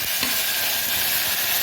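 Vinegar poured onto garlic frying in a pan bursts into a loud, bright, hissing sizzle that stays steady and close for the whole moment, with no voices.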